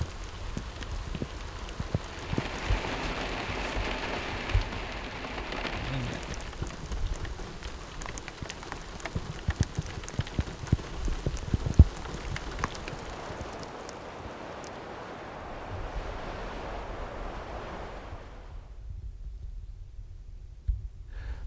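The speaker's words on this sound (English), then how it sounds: "That's the first time for southern Arizona rain." Rain falling during a monsoon shower in southern Arizona desert country, a steady soft hiss of drops on surfaces that holds through most of the stretch, then drops away to near silence at the end.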